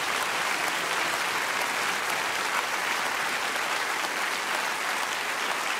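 Steady, even applause from a studio audience at a Volksmusik television show, an unbroken moderately distant patter of many hands clapping for a guest that holds at one level throughout.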